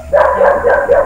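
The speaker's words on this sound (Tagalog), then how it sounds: "Maingay yung aso." A dog barks rapidly several times in a short burst, loud and close, in a quick yapping rhythm.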